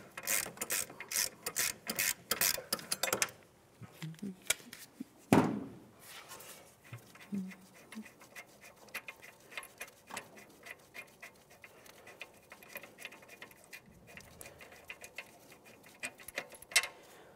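A caliper bracket bolt being loosened and removed on a Ford Flex, with a burst of rapid ratchet clicks at first, then a sharp clank and quieter scattered metallic ticks and rubs close by.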